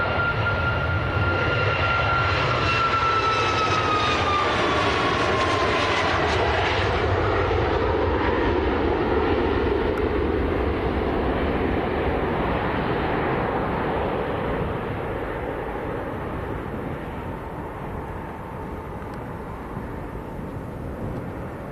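TUI jet airliner taxiing out at Manchester Airport, a loud, continuous engine roar with rising whine, close and steady before easing slightly as it moves off, no voices.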